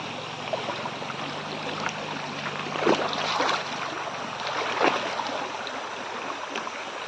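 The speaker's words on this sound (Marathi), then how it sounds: "हे पाणी वरतून डोंगरातून येते एकदम स्वच्छ पाणी वाहतं पाणी" Clean water running down from the hills flows steadily as a stream, with a continuous broadband rush and a few louder surges, heard close and alone with no talking.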